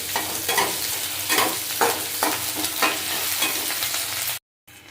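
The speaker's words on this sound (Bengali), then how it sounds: "চেরা কাঁচা লঙ্কা দিয়ে দেবো" Slit green chilies and ginger paste sizzle in hot oil for a banana-flower and prawn mochar ghonto, with rhythmic spatula strokes sweeping through the pan at a steady pace before a sudden cut to silence.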